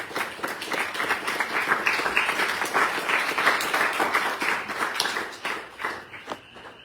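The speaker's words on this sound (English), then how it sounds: "Thanks for clapping" An audience claps together through a dense, steady burst of applause that swells and then thins out toward the end, with no voices over it.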